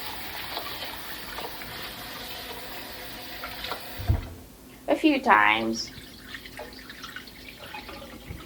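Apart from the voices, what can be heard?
rinsing Japanese rice with water in a bowl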